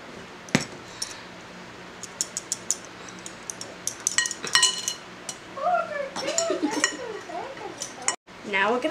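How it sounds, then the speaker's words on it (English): A meatball mixture is mixed in a bowl for spaghetti meatballs: scattered utensil clinks and knocks against the dish, growing busier midway, with vocal sounds rising over the clatter near the end. "Now we're gonna mix them all up and form them into balls."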